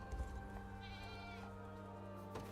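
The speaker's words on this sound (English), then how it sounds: "I guess we're milking goats today." A goat bleats once in the video game Unicorn Overlord, a brief wavering cry rising over a steady droning game soundtrack.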